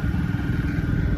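Hero Splendour motorcycle fitted with a modified aftermarket exhaust, idling close by with a loud, steady, rough low-pitched burble and a rapid uneven crackle throughout.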